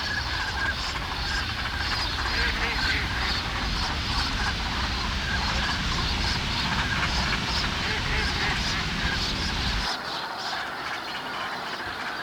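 A dense winter flock of migratory geese and ducks at Seosan calls continuously in a steady, overlapping chorus of honks and quacks, loud and close throughout, thinning abruptly near the end.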